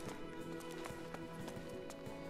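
Horse hooves from the video game Attack on Titan 2 beat in a quick, regular running rhythm, close and distinct over a steady hum of game sound.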